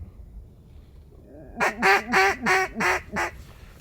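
Mallard ducks in a flooded corn field give a run of five loud, close quacks in quick succession after a quiet stretch, with no talking over them.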